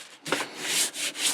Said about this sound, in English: when you sand this dye off, you're going to get a lot of powder on your sandpaper